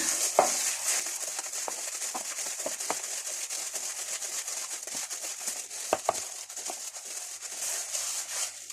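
Minced meat with onion being kneaded by hand for kebab, soft squelching, squishing and light slapping textures in a steady, close, quiet rhythm, with small clicks and rustles scattered throughout.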